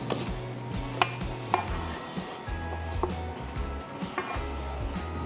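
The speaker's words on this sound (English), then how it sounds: "I'm scraping down the sides of my bowl, making sure everything is well combined" Spatula scraping around a mixing bowl of chocolate cookie batter, repeated soft scrapes and occasional light clinks against the bowl, close and moderately quiet.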